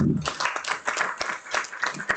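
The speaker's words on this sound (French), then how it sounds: "Oui, je crois qu'on peut applaudir." Attendees at a municipal council meeting clap: a small, thin round of individual hand claps, fairly quiet and a little uneven, with a voice briefly at the start.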